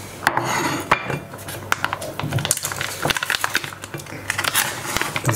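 A plate is handled with the dishes of a Heater Meals Plus self-heating ready meal outdoors. Irregular clinks and clatters of crockery and cutlery come close up, with scraping and knocking in between.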